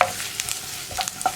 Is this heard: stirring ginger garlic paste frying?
yes